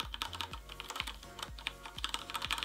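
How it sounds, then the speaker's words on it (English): Soft, quiet typing on a CoolerMaster Quickfire XTI mechanical keyboard with Cherry MX Brown switches, a rapid, even patter of light key clicks with no voices. "Let me type a little bit softer."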